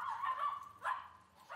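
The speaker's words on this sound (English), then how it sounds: "There are some dogs over there." Dogs bark faintly in the distance outdoors in a Himalayan village in Bhutan: a few short, muffled barks with no one speaking nearby.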